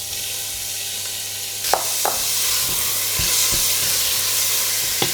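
Chopped onion sizzling steadily in hot olive oil in a pot, a loud continuous frying hiss with a few clinks of a utensil, no voices.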